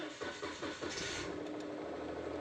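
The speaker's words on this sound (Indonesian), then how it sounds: "kita tekan pedal rem, baru kita starter" An automatic car with a cold engine is started while parked in P: the starter cranks briefly, then the engine catches and settles into a steady, fairly loud idle rumble.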